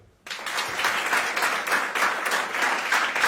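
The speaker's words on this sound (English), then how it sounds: "Give me a clap if you're from abroad." A crowd breaks into sudden, sustained clapping after a brief quiet, a dense, fairly loud applause that holds steady to the end.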